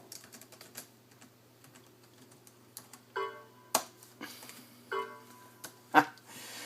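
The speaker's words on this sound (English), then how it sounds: "I was taught how to navigate the computer using a keyboard" Key presses on a ThinkPad T21 laptop keyboard, starting as faint scattered taps and building into brisker clicking runs with a few sharp, louder strokes, close to the machine over a steady low hum.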